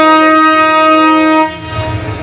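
Mohanagar train to Chittagong departing platform 6 at Dhaka station: a loud, sustained multi-tone horn blast that cuts off, followed by the low rumble of the moving train.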